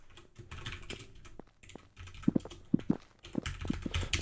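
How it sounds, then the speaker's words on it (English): Quick, uneven clicking of keys on a computer keyboard during a Minetest capture-the-flag game, close and fairly quiet, with irregular bursts of sharper keystrokes and short pauses. "My keyboard typing skills are sucking today."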